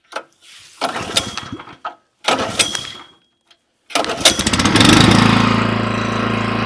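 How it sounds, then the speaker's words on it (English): A Vanguard pull-start engine on an Eastonmade STK24 log splitter is cranked with two short rope-pull bursts, then a third pull catches and it roars into a loud, steady close-up run. "Let's fire this Vanguard up. Now, it's not electric start, it's pull start."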